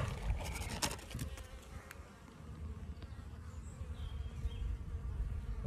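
Honeybees buzz steadily and loudly around an open beehive during a colony inspection, a dense continuous drone close by with a few brief handling knocks early on.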